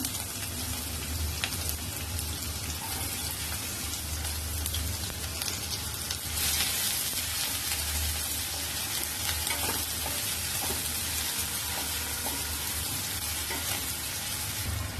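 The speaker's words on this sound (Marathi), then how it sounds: "राई जिरं तट तट कांदा टाकून घेऊया" Mustard seeds and cumin crackling in hot oil as onion goes in to fry, a loud unbroken sizzle like heavy rain, with scattered pops and occasional stirring scrapes throughout.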